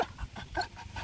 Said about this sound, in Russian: У нас у собаки истерика, требует опять в воду.